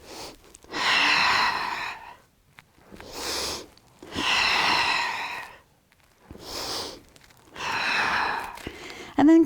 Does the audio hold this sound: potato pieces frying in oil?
no